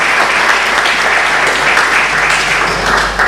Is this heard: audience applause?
yes